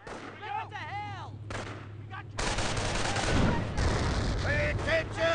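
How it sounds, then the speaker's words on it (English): Gunfire and artillery in the video game Company of Heroes, a dense barrage of shots and booms that grows louder halfway through, with whistling shells overhead and shouted voices mixed in. "They're firing on our position!"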